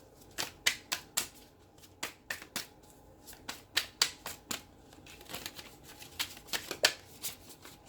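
Tarot cards are shuffled close and quiet in quick irregular bursts of crisp slapping riffles, a steady flurry with brief pauses and no voices.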